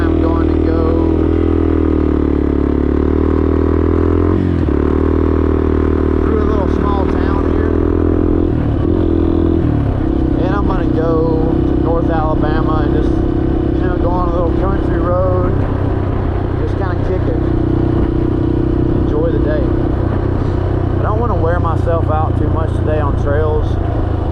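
A Yamaha XT 250 dual sport motorcycle engine drones loudly and continuously while riding, shifting pitch as it changes gear, with a rider talking over it throughout.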